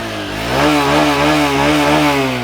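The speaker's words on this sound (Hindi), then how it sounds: "मैं थ्रॉटल देता हूँ" A Honda Shine 125 motorcycle's 125 cc engine revs up under the throttle, rising from idle to a loud, steady, close drone with clear pitch swells, then easing slightly.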